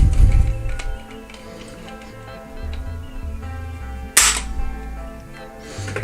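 A Ruger 10/22 fitted with a BX-Trigger being pulled against a trigger gauge gives one sharp, crisp click close up amid quiet handling noise, with faint low shuffling around it.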